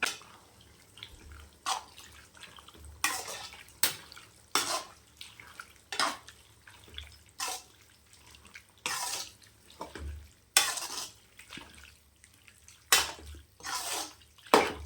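Goat intestine curry simmering in a pan and being stirred, with irregular clinks and scrapes of a utensil against metal over a quiet bubbling background, close and moderately loud.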